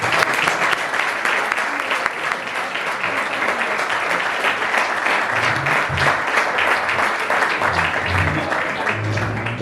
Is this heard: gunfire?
no